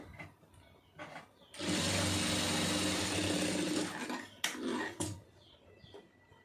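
A sewing machine stitches two folded layers of cloth in one loud, steady whirring run of about two and a half seconds, framed by brief handling clicks and soft knocks before and after.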